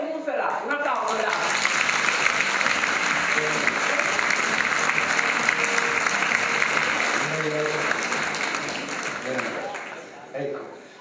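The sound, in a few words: audience applause at award ceremony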